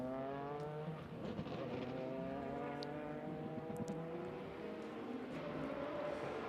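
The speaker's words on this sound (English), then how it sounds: "the Corvette makes a great noise." A Corvette GT race car howls at Spa-Francorchamps during an SRO GT anniversary race, its engine note sweeping up and down through the gears with rich harmonics, loud and sustained as it powers along the circuit.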